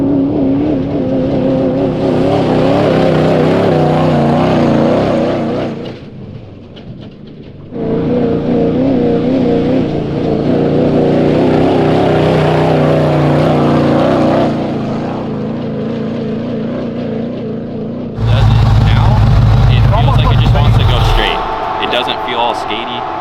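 A prerunner truck racing off-road at Plaster City at around 65 mph, its engine roaring loud and close with shifting pitch and rushing wind and a brief dip midway, while people talk over it.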